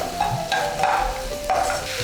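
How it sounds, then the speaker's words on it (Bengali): Egg 65 stirred in a pan over high flame, with repeated utensil scrapes every half second or so over a steady frying sizzle, close and fairly loud, no talking. "হাই ফ্লেমে রেখে এবার ভালো করে মিশিয়ে নিতে হবে।"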